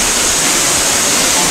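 Agbokbok Falls in Paluan, Occidental Mindoro, pours as a loud, steady broadband rush of falling water in the dry April season, close by and constant, with no break across the short stretch.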